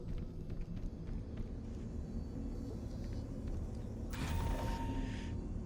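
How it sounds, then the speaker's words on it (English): Doors sliding open in Halo: Combat Evolved, a steady mechanical rumble and creak that ends in a brief bright hiss as the door parts, set within continuous game ambience. "Wow, those doors open very quickly."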